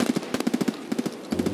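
Rapid bursts of automatic gunfire in the shooter game Escape from Tarkov, several quick volleys of sharp shots separated by short pauses, loud and close.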